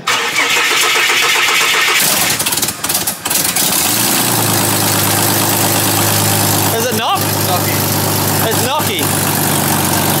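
A Ford AU Falcon engine with newly installed twin turbos cranks and catches, then settles into a rough, rumbling idle, with a few brief revs and people talking nearby.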